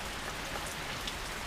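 Steady rain falling on a farm after a full day of downpour, a dense even hiss of drops on surfaces, constant and close with no talk.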